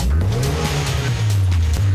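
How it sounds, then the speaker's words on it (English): A tuned Mitsubishi EVO engine revving hard, its pitch sweeping up and easing back in a loud, close, continuous growl with no talk over it. "Rev it, let's listen to it."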